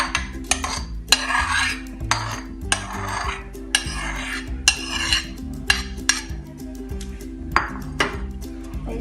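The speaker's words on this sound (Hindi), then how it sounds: "अब हम चनास में ये कुकम्बर डाल देते हैं।" Sliced cucumber goes into a bowl of white chickpea salad with repeated clinks and scrapes of a spoon against the bowl, an irregular series of close knocks and stirring sounds.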